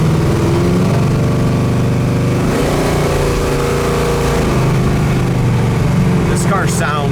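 A 500 hp 1970 Chevelle SS engine runs loud and close, a steady throaty rumble with a pitch shift partway through as the revs change, and a voice speaks over it toward the end.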